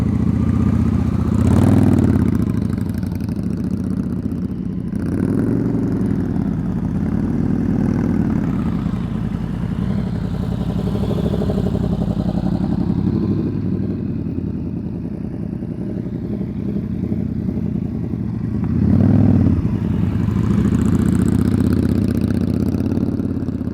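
A motorcycle engine idling steadily and loudly nearby for an extended stretch, with periodic swells and faint clatter in its rumble.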